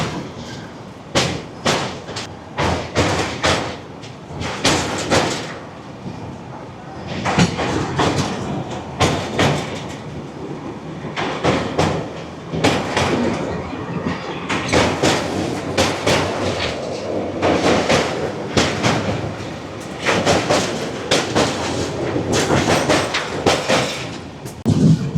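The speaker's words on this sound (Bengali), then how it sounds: "এখানে কষণ রয়েছে, তার জন্য ট্রেন স্লো, ব্রিজে কাজ চলছে" A train moves slowly over a bridge under repair on the Puri–Howrah line, with repeated clattering wheel-on-rail bursts and clacks, fairly close, steady throughout.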